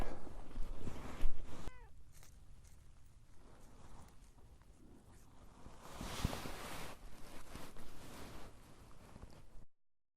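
A cat meows near a person outdoors in an oak savanna while they work on a burn, a few short cries over a rustling, windy background with light movement noise.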